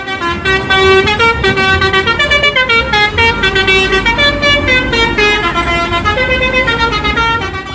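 Bus telolet horn on a bus, loud and close, plays a rapid run of melodic multi-tone honks that repeat continuously as a bouncy tune with no gaps.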